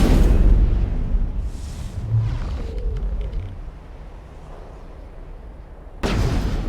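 Gunfire in the video game Mass Effect: muffled, rumbling shots and booms roll through the scene, with a sharper loud burst near the end.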